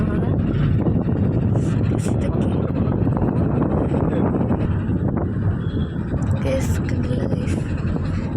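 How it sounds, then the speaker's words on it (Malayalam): Cold wind roars and buffets the microphone in a constant low rumble, with a voice partly buried beneath the gusts. "തണുപ്പുള്ള കാറ്റാണ് കേട്ടോ വീശുന്നത്."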